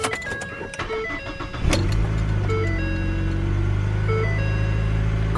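A Ford Fusion engine cranks and fires up with a sudden surge, then settles into a steady, smooth idle heard up close.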